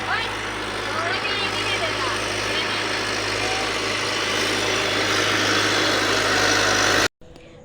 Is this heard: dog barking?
no